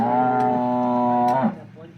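A black cow, three days after calving, gives one long, loud, close moo at milking time. The call ends abruptly, and fainter farm background follows.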